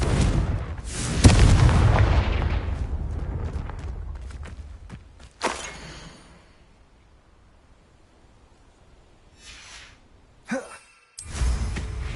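A Confringo spell explosion in the Hogwarts Legacy video game on PS5 opens with a loud, broad blast that rumbles and slowly fades, followed by a sharp crack and a few shorter bursts of game effects later on, with no talking.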